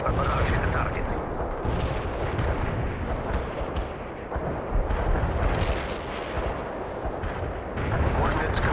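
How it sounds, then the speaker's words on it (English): Artillery barrage striking a target in the strategy game World in Conflict, with heavy rolling booms and dense rumbling blasts that go on throughout, loud and continuous. "Launching a barrage. A barrage hit the target."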